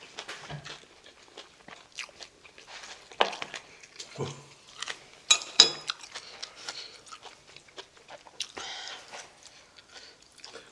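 Spicy pig's trotters (jokbal) being bitten and chewed up close, with wet, irregular mouth sounds, soft crunches and occasional clinks of cutlery or dishes.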